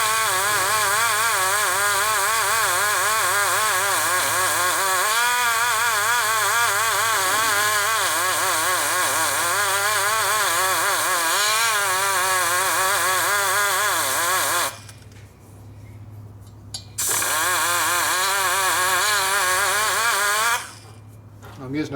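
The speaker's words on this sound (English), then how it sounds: "I'm using a fairly dull cutter, that's why it doesn't do much damage. It doesn't cut very fast" A dull cutter machining a Harley ironhead cylinder head for a 1977 XLCR 1000cc Sportster engine, grinding with a wavering, continuous whine that stops briefly twice, while a person talks nearby.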